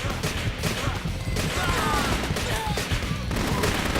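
Rapid, dense gunfire and explosions from the side-scrolling shooter game Metal Assault, a continuous loud barrage of shots and impacts with no clear pauses.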